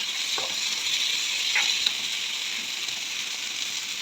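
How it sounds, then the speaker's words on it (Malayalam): Cooked horse gram is stirred in a hot pan, giving a soft continuous sizzle with a few faint spatula scrapes and taps. "ഇനി നമുക്ക് വേവിച്ച് വെച്ചിരിക്കുന്ന മുതിര നമുക്കിതിലേക്ക് ഇട്ട് കൊടുക്കാം. നന്നായിട്ട് ഇളക്കി കൊടുക്കാം."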